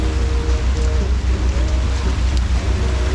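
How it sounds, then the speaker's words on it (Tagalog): Steady rain falling outdoors at a party in Subic, a dense, constant patter close by with a low rumbling undertone and no clear speech. "Umuulan."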